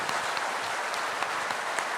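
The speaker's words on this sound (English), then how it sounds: "they come together in an applause that is audible to the other auditorium as well" Dense, steady applause from a large audience at a batch inauguration ceremony, with many hands clapping at once at a fairly even volume.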